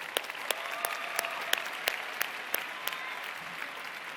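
An audience at a university convocation ceremony applauds in a steady wash of clapping, with several sharp individual claps standing out.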